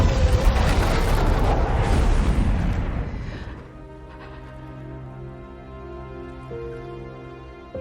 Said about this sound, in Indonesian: Semua penyimpanan anggur yang masih tersisa meledak ke arah Falak